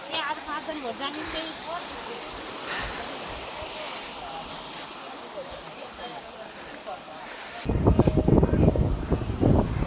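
The Saraswati River near Mana village by Bhim Pul, high in the Himalayas, rushes in a steady broadband roar. Wind buffets the microphone throughout, and the roar swells louder and closer in the final seconds.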